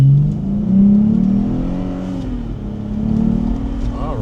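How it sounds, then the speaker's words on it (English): A Jeep Rubicon's engine revs and pulls hard as the vehicle accelerates from a stop, a steady close mid-range drone that climbs in pitch, eases off briefly and then swells again across several seconds. "there's some power in this engine, in this Rubicon"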